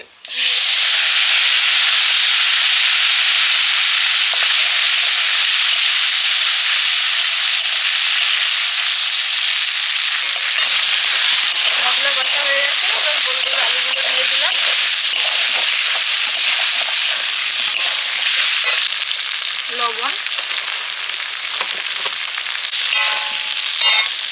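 Tomato, chilli, turmeric, ginger, cumin and coriander hitting hot oil in a pan, a loud dense continuous sizzle and hiss that crackles and bubbles more unevenly as it cooks down.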